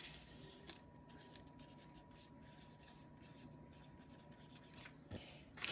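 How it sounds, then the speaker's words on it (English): A marker writes onion soup onto a label for a pantry sauce packet, making faint, brief scratchy strokes against a quiet background. "Okay, so I'm gonna write onion soup here."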